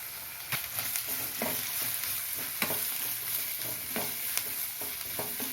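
Vegetables with carrot sauté in a pan for sambar rice, a faint low sizzle with occasional soft stirring taps throughout.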